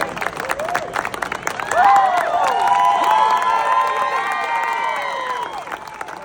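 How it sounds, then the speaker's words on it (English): Attendees at a Disney Lorcana tournament erupt in loud cheering, shouting and clapping all around, with raised voices rising over the applause and sustaining the noisy celebration. "with the applause of attendees all around him"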